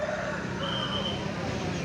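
Chickens crow and cluck amid the steady din of a crowded chicken market in Pecangaan, Jepara, Central Java, with a rooster call rising over the noisy background of people talking.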